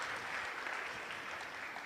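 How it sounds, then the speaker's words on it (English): Brief, steady applause from an audience at a Sunday devotional program, a dense wash of clapping heard at moderate distance. "Can we give a bigger round of applause to Bhakti Yoga Prabhu"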